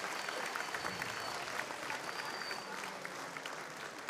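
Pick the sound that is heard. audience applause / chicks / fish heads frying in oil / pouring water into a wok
audience applause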